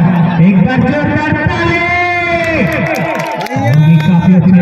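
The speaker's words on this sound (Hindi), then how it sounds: "ताली काफी अच्छा" Crowd at the Shamsher Ganj vs Begusarai match clapping and cheering in a steady, dense roar, with a commentator's voice talking over it throughout.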